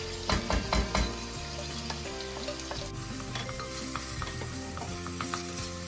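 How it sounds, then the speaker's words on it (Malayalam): Chilli dropped into a hot pan with tomatoes for chicken sukka, a close, crackling sizzle with a few stirring knocks early on, staying steady with faint background hum. "ഇതിപ്പോൾ ചില്ലി ഇട്ട് കൊടുക്കാം."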